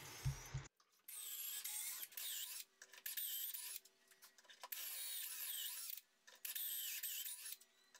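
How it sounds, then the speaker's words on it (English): A power drill bores dowel holes into solid ash table legs, its whine rising and stopping in several bursts of a second or two, close and fairly loud, with short quiet gaps between passes. "After drilling all the holes for the legs,"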